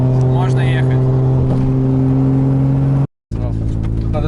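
Drift car engine revving hard and pulling away after a full tank of fuel, on a frozen river, loud and close with a steady droning tone, a brief cut in the sound, then the engine resumes.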